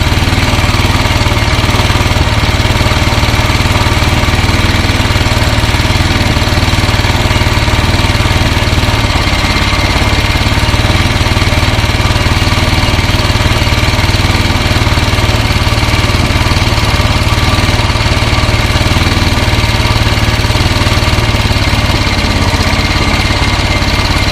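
A Royal Enfield Himalayan motorcycle engine running steadily at held revs during carburetor tuning, a loud, even, close drone with a low throbbing rumble that stays constant throughout, no voices.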